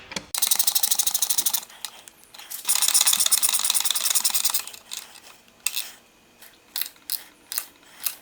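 Tightening Madstad windshield bolts with a 4mm Allen key and a 10mm wrench on a lock nut gives close, raspy ratcheting and scraping in long runs, then shorter intermittent clicks and turns.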